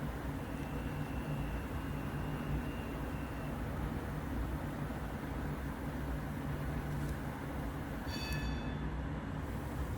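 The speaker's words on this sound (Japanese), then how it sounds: "このチリンチリンという音がなんかこの路面電車ということを思い出させてくれる" A Prague line 5 tram passes at a steady, fairly faint roar of wheels and rails. A short bright chime of its bell rings near the end.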